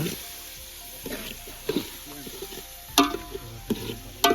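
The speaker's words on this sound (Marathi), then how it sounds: "बघू शकता आता आपण कांदो टाकला चांगलं लाल लाल होऊन" Onions fry in a pan at a nighttime village chicken party in Konkan, with a steady sizzle broken by scraping stirs and clinks of a utensil against the pan, close and fairly loud with no talk.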